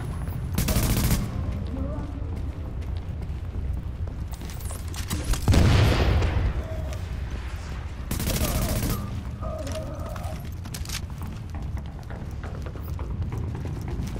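Gunfire from The Division, loud bursts of rapid automatic fire with a heavy boom midway, bursts recurring between quieter gaps, with some talk under the shooting.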